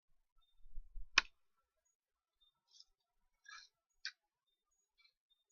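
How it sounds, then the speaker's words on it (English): A fortune cookie snaps open with one sharp, crisp crack close to the microphone, preceded by a soft handling thump and followed by a few faint crinkles of wrapper or paper in an otherwise quiet room. "I want you to hear the snap of the cookie."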